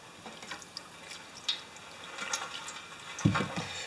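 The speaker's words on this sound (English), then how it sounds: "Rinse with fuel right away." Snowblower carburetor parts from a Craftsman 13.5 ft-lb torque machine being rinsed with fuel, giving light liquid splashes and drips, with a fuller splash near the end; faint and close, no talking.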